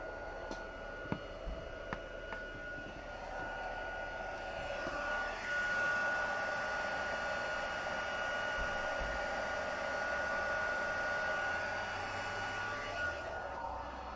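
A craft heat embossing tool blows hot air in a steady, continuous whoosh, close and fairly loud for the whole stretch, with a few faint clicks near the start and no talking.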